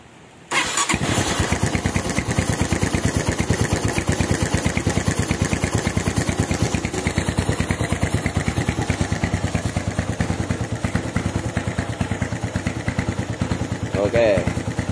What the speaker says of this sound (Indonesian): ini starter langsung hidup, langsam juga stabil. Teman-teman bisa dengar sendiri.